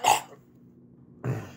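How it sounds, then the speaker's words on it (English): A person coughs twice, short and close, separated by a near-silent pause. "As you're coughing and everything"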